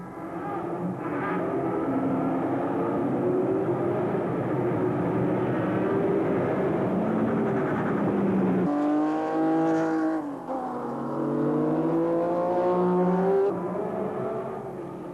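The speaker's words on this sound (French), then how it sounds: "Ici, les GT40 sont dans leur élément et elles prennent vite l'avantage dans le premier groupe de compétition." Ford GT40 race cars competing at Tour Auto 2001, loud engines roaring and revving as cars pass close by, pitch rising and falling with shifts and a sharp change midway as another car sweeps past.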